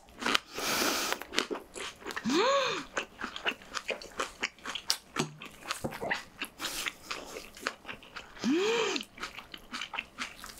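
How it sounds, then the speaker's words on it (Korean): Homemade green onion kimchi is chewed up close with loud, crisp, repeated crunches throughout. Two brief rising-and-falling squeaky whines cut in between the bites. "엄청 아삭아삭해요."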